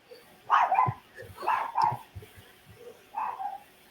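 A pet dog gives three short bursts of barking and yipping, close by and moderately loud, with brief pauses between the bursts and no talking.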